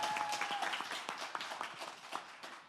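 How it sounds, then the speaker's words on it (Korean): An audience claps together to welcome a guest at a Korean talk event, a dense, steady patter of many hands that holds for the whole stretch with no voices over it. "다시 한번 큰 박수로 모시겠습니다."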